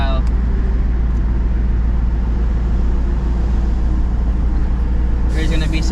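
A 2024 Ford Mustang GT V8 pulls hard under acceleration with no-lift shifts, a loud steady drone filling the cabin throughout, with a brief higher-pitched burst near the end.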